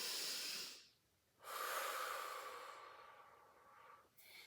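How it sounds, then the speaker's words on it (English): A slow, deep breath after a Pilates mat session: a brief airy exhale, a pause, then a long drawn inhale that tapers off, close and soft, with a short breath at the end. "Let's go ahead and take one more big deep breath."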